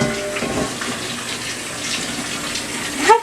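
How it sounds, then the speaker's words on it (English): Hot water pours from a tap into a big pot in a steady, close gushing stream, ending with a brief splash and clatter. "fill it with enough hot water that the garment can move"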